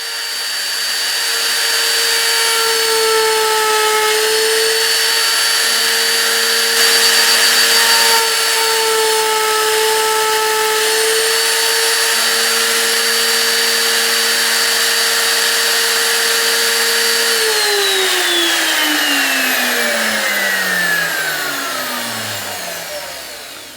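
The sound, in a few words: power tool cutting notches in wooden toboggan slats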